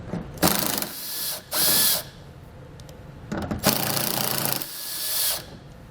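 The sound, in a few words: ratchet with 10mm socket removing fascia bolts on Mercedes GLE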